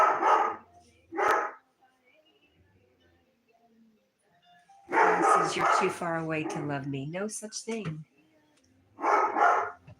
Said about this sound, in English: we're going to see what he's barking at.